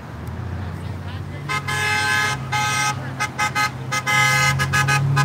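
A car horn honks repeatedly in short and longer blasts at a roadside gathering, with people talking over a low traffic rumble.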